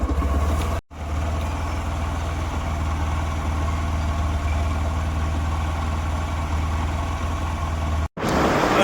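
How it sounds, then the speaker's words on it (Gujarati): A motorcycle engine runs steadily at idle, a low continuous rumble close by, with two brief cutouts. "અને બાઇક સ્ટાર્ટ કરી નાખી"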